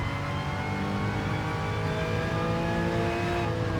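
Race car accelerating on the Suzuka circuit in Gran Turismo Sport, a steady, loud engine drone rising in pitch under power, continuous and close with no talk.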